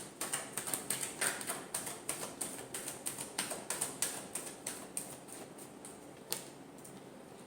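Tarot cards shuffled by hand, a rapid run of crisp, close flicking taps and ticks that thins out after a few seconds, with one sharper snap near the end.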